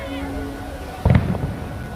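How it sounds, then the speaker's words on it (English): Distant fireworks at EPCOT give one muffled boom with a short rumbling tail, heard faintly under quiet evening crowd ambience. "Steve, the fireworks have started."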